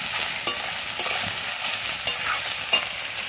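Soya chunks fry in a pan with a constant crackling sizzle, punctuated by four or five sharp spatula knocks against the pan at regular intervals, close up and without speech.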